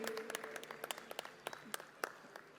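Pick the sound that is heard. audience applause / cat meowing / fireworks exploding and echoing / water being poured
audience applause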